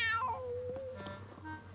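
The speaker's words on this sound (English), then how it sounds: "That cat again." A cat meows once in a drawn-out, falling cry, fairly close and clear, with a couple of quieter sounds after it and no talking.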